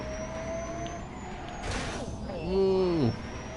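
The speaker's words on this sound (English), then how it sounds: "Cool, listen to that whistle." Whine of the Rimac Concept 1 electric supercar in The Grand Tour video game, a rising and falling tonal whistle that swells near the end over game noise while people talk.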